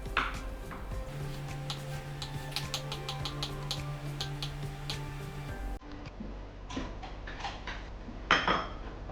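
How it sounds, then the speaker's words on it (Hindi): A knife cuts a boiled potato into small cubes on a board, making quick, close, crisp taps and clicks in an irregular run, then a few louder knocks. "1 बॉयल्ड आलू ले लेते हैं, काट लेते हैं इसको छोटे छोटे क्यूब्स में"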